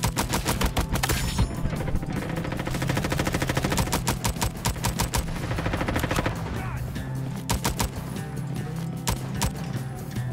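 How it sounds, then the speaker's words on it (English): Pistol fire in the Roblox first-person shooter Frontlines, a long string of sharp, evenly spaced shots that carries on steadily and close, with other battle noise underneath. "I'll get you all with this pistol."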